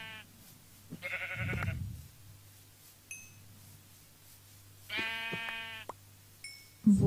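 Sheep in the Minecraft video game bleat twice, each a short wavering cry separated by a few seconds, with faint game clinks and soft thumps in between.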